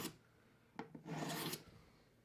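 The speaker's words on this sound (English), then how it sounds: "Do this side one last time on this diamond stone." Single bevel broadhead dragged across a diamond sharpening stone in two or three short rasping strokes, close and quiet with brief gaps between passes.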